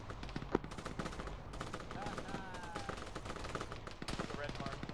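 Rapid gunfire in the Arma military video game, played by a ShackTac squad: dense bursts of automatic fire and single cracks repeat across the scene, some close and some distant, with players' voices talking now and then underneath.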